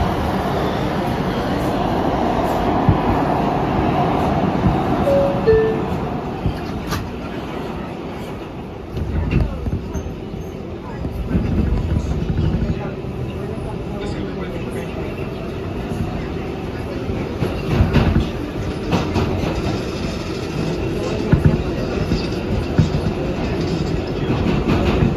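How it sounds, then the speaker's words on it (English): A New York City R142A 6 subway train rolls along the rails, a loud continuous rumble with rhythmic clicks and swells in intensity, with voices faintly audible over the din. "This is a Brooklyn Bridge bound 6 train."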